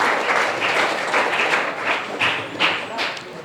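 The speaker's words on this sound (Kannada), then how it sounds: "ತಮ್ಮೆಲ್ಲರ ಮತ್ತೊಮ್ಮೆ ಜೋರಾದ ಚಪ್ಪಾಳೆ ಅವರಿಗೆ ಅಭಿನಂದನೆ." An audience applauds a newly selected Agniveer army recruit at a ceremony, producing a steady, dense patter of many hands clapping at close range with a few louder bursts toward the end.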